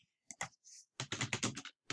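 Quick, crisp keystrokes typing a command on a computer keyboard: a few scattered taps, then a rapid run of clicks, close and clear with no speech.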